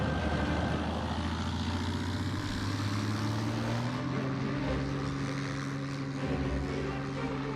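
A WWII propeller fighter plane diving in the IL-2 Birds of Prey flight game, its engine a steady, loud droning roar whose pitch climbs gradually as speed builds, continuous throughout with no talk.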